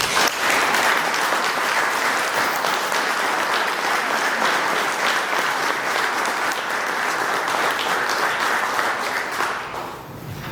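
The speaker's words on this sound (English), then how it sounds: "give him a round of applause" A retirement party audience breaks into sustained applause, a loud, even wall of clapping that carries on for about ten seconds before beginning to fade at the very end.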